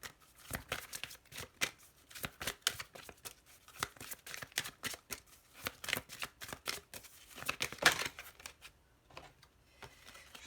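Oracle cards being shuffled by hand, a long run of crisp, rapid riffling and sliding card sounds in bursts, close and fairly quiet, with no talking.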